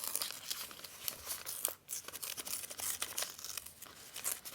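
Paper for a junk journal is handled and crinkled close up, giving steady rustling and crackling throughout with a brief quiet gap midway; no talking.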